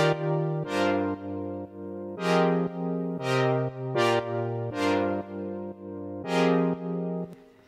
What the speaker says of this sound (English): now we're adding our main chorus synth, which I produced in Yuhi Diva, and here's what that's gonna sound like